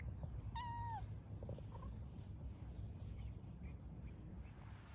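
A cat gives one short, clear meow near the start, heard outdoors on a roadside hike through New Hampshire, over a steady background rumble.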